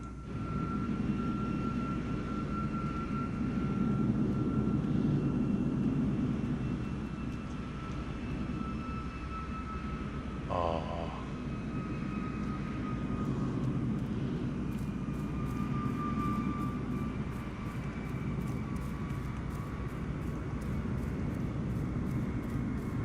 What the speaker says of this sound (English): Plane landed pretty good.